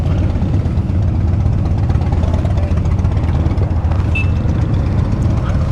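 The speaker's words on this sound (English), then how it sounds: "Royal Enfield, Royal Enfield, Royal Enfield, Royal Enfield." A Royal Enfield motorcycle engine rumbles steadily and loudly close by, a continuous low throb with no pauses and no talk over it.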